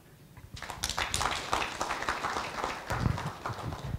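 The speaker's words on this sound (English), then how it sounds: "let's give him another round of applause, please" An audience claps after a presentation at a SADC water, energy and food nexus dialogue session. Dense, steady applause builds quickly and continues without a break, with scattered individual claps standing out.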